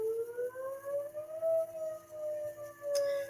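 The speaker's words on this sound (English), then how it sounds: "That siren. I hope they'll quit testing here in a minute." An outdoor civil defense warning siren being tested wails steadily in the distance, its tone slowly rising and falling in a long sweeping cycle, alone without talk.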